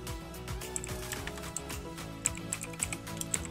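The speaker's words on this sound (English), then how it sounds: "open up your command prompt and type in ipconfig" Someone types on a computer keyboard while entering a command-prompt command, and a few faint, irregular key clicks sit under a steady background hum and low music.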